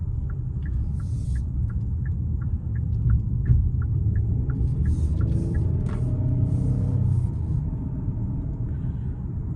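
A 2024 Kia Telluride SX Prestige V6 SUV on the road, heard from inside as a steady low rumble of engine and road noise, with a run of faint rhythmic ticks and a few brief chirps above it.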